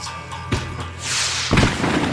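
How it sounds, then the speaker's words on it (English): Fireworks explosions in the video game Max Payne 3: a deep thud, then a sustained crackling burst and another heavy boom, loud and close with no talking. "The fireworks display was clearly in my honor"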